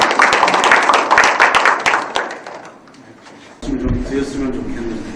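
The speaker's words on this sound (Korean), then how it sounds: "박수 부탁드리도록 하겠습니다." A round of clapping from a seminar audience greets a guest speaker, dense at first and then thinning out before a voice comes in over a quieter room tone.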